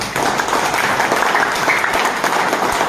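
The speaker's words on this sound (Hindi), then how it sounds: "नए गेस्ट हैं, उनके लिए जोरदार तालियां" An audience claps loudly and steadily for new guests at a leadership training event, a dense, continuous roar of applause that fills the room with no break.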